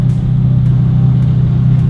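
A Callaway car engine at a street car meet rumbles loud and close, a deep steady throaty drone holding without pause, with no voices over it.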